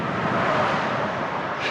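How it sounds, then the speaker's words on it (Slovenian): A car driving along the road behind a moving rider makes a brief, steady rushing hum blended with wind noise, fairly close. "To pelje avto za mano."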